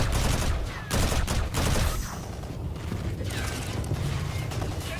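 Rapid bursts of energy-weapon fire from the video game Call of Duty Black Sky, loud and close, with mechanical clicking and crackling amid a dense game soundscape, stopping briefly before the shots resume.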